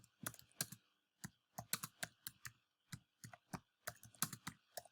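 Keys on a computer keyboard clack in quick irregular bursts of taps, faint but close, with brief pauses between words and no voices.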